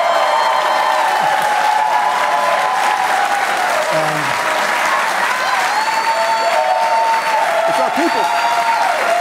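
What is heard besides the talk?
rally crowd applauding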